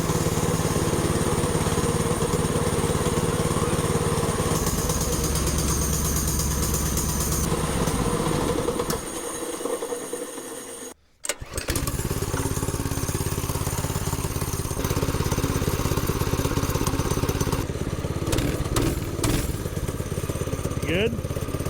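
An old go kart's small engine runs loud and close with a raspy, steady drone, cuts out briefly midway, then restarts and keeps revving; voices talk faintly under it.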